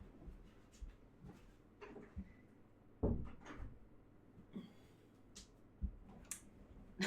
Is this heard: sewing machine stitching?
no